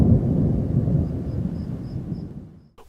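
Deep rolling thunder from an active thunderstorm with cloud-to-ground lightning, a loud low rumble that slowly fades over a few seconds, with faint rain beneath and a soft click at the end.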